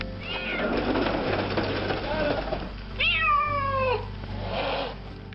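A rescued cat lets out one clear, drawn-out meow after a stretch of rustling and handling noise as it is brought down safely in a net.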